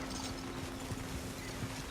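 A horse trots in Red Dead Redemption 2 with a steady clip-clop of hooves over a dense, constant background wash, no one talking.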